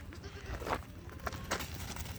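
Goats bleating during evening feeding on a farm, a few faint short bleats at a distance over quiet background rumble.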